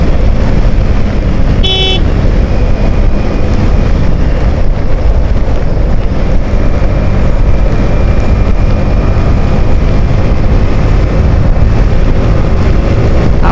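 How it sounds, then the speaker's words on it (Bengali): A motorbike speeding along a winding hill road to a valley resort in Lama, Bandarban, gives a loud, constant engine roar with heavy wind buffeting and one brief horn toot early on, and no voices. "80-90-তে বাইক রাইড করতেছি।"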